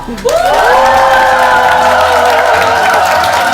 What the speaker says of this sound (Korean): 큰 박수로 만나볼까요?